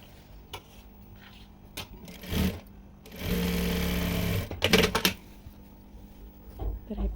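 A sewing machine stitches a square neckline on a dress made from a saree. One steady run of about a second and a half plus a few short bursts, close, with handling clicks and rustling between and no talking.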